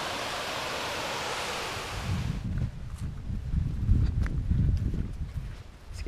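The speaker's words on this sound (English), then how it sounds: "Check out this creek." Steady rushing water from a creek along the Appalachian Trail in Connecticut fills the first part, then gives way to quieter outdoor sound with scattered footsteps and rustling nearby.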